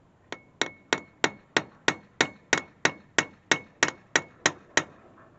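A hammer rings on a section of rail track used as an anvil in knife making: sixteen sharp, evenly spaced metallic strikes with short decays, close and loud.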